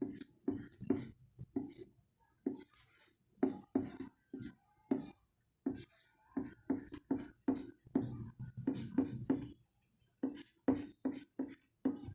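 A pen writing numbers on paper while working through a class 6 maths exercise, with short scratchy strokes coming in quick bursts separated by brief pauses, close and fairly quiet, with no talking.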